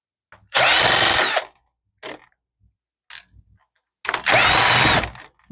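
A power screwdriver backs screws out of a Dell Inspiron 1521 laptop during a teardown, with two loud whirring bursts of about a second each separated by small clicks and handling knocks close by.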